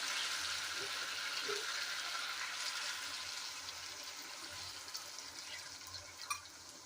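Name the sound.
hot water poured into sautéed chicken curry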